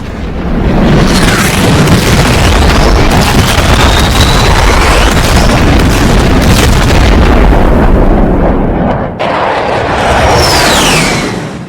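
A missile strike in Afghanistan at night is followed by fire. It comes as a loud, continuous rumbling roar of explosion and burning, with a brief dip near the end before the roar resumes.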